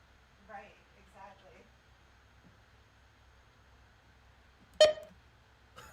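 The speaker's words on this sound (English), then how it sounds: "Anybody know what that beep is from?" A single sharp electronic beep cuts in during a live Flyers–Panthers hockey broadcast, bright and brief, after a few faint spoken words, with a softer click trailing at the end.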